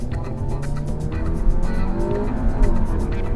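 Front-wheel-drive 2015 Audi A3 with automatic transmission launching hard from a standstill, its engine roaring loudly and steadily as revs climb, with a brief tire chirp and continuous close engine and road noise.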